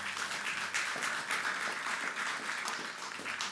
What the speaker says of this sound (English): You deserve to give yourself another round of applause.